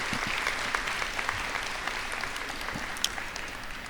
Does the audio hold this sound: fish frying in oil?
no